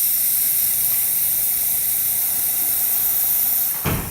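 A Breville BES920XL espresso machine's steam wand hisses in a loud, steady, high-pitched jet that runs continuously, then gives a short burst of lower noise near the end as the flow cuts off.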